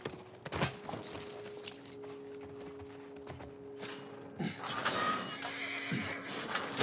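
Horse in the video game The Last of Us Part I whinnies and snorts close by, with hooves clip-clopping and game music and ambience underneath; the sound grows louder and busier toward the end.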